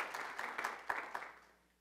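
Audience applause for speaker Martin Robinson after a talk on the trivium, a fairly quiet round of clapping with a few sharper claps that fades away toward the end.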